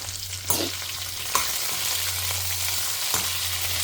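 Onions frying in a pan give a steady close sizzle, broken by a few sharp stirring scrapes and a low constant hum.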